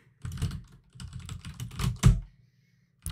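Typing on a computer keyboard while entering a terminal command, clustered close keystrokes in three short bursts separated by brief pauses, then silence and one final tap.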